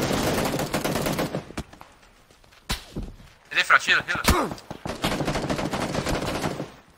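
Bursts of gunfire crack out in an online multiplayer shooter game, scattered sharp shots and short volleys between stretches of steady background noise, with players talking over the action.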